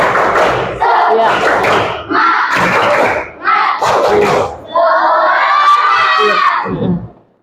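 A school class does a rhythmic spirit clap-and-cheer: loud, dense bursts of claps and thumps come in a patterned sequence with children shouting together, ending in a long group yell.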